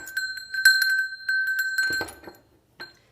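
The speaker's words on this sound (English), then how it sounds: "my little bell" A small altar bell rung a few times in quick succession, clear bright ringing tones close by, then damped, followed by a short pause and one final light ring.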